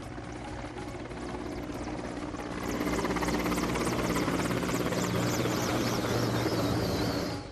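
An army Chinook helicopter flies over a hospital in Leh, its rotor throbbing faintly at first and then swelling into a louder, steady beating whir with rhythmic chopping as it passes overhead. There is no speech.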